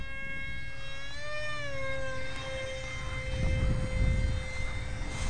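A scratch-built RC F-18 model jet flies overhead, its engine whining steadily at high pitch, sliding up and then holding, with a rushing gust of wind noise near the end.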